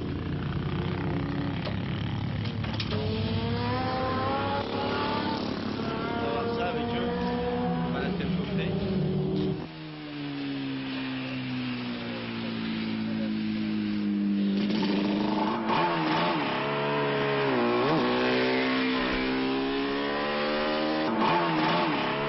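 A racing motorcycle engine revs up and down repeatedly, loud and close, pitch rising and falling in sweeping bursts over a steady mechanical drone, recorded in 1986.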